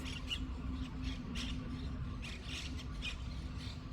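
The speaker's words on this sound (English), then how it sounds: "Listen to the birds." Outdoor birds chirping and squawking in short bursts over a constant low hum of background noise, moderately distant.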